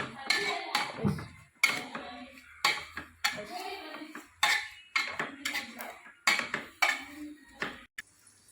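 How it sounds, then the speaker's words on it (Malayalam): A spoon stirs tomatoes and masala powder in a cooking pot, making a series of regular clinking, scraping strokes against the metal about once a second, close and fairly loud. "ഇനി നന്നായി ഇളക്കി എല്ലാം കൂടി നമുക്ക് മിക്സ് ചെയ്യാം"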